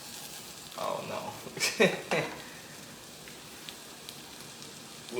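Food sizzles in a small hot pan while making homemade Taco Bell style dishes, a soft steady frying hiss with a few brief louder clatters and stirring sounds near the start; a voice speaks briefly.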